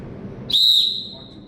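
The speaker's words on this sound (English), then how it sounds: "Whistle." A referee's whistle gives one sharp, shrill blast lasting about half a second during a basketball officials' practice clinic, close and loud, then fades over a quiet background.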